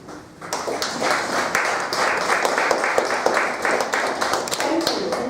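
Audience clapping at an outdoor poetry reading in a Chinese garden, a dense, steady patter of many hands that starts abruptly and keeps going at an even level throughout.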